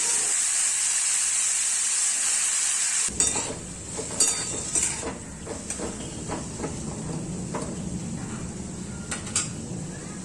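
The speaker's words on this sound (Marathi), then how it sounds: "आता कढई गरम झाली त्यामध्ये तेल टाकते त्यामध्ये मी मिरची आणि लसूण हे वाटण टाकले परतून घेतलं" Chili-garlic paste and cluster beans being sautéed in hot oil in a wok, with a steady close sizzle and hiss, stirring scrapes and clatters breaking in after the first few seconds.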